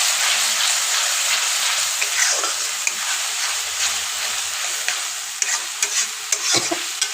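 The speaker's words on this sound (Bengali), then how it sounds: "লবণটা আমি এখনই দিয়ে দিলাম, তাহলে মশলাটা আমার সুন্দরভাবে কষানো হবে" Spice masala with salt sautéing in a pan for chicken gravy: a steady, close sizzle with occasional stirring scrapes and no voices.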